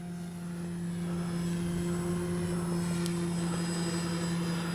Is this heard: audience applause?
no